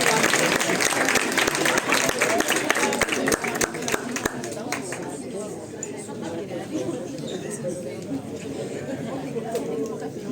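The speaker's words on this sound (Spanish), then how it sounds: "Un aplauso para Teresa" An audience applauds a speaker at a PsychoBeers talk on addiction, dense clapping with crowd chatter, loud and steady before thinning into a softer, sustained murmur of clapping.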